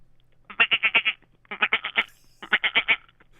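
A person's voice imitates a sheep bleating, giving three close bursts of wavering, quavering bleats with short pauses between them.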